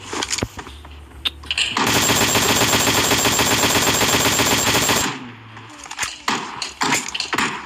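Loud sustained automatic gunfire in PUBG Mobile from two enemies shooting, a dense rapid burst lasting about three seconds, framed by scattered lighter game clicks and footsteps before and after.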